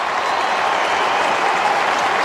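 A sold-out crowd at Adelaide Oval roars and applauds in a dense, continuous wall of noise during an Adelaide versus Port Adelaide Australian football showdown, loud and unbroken throughout.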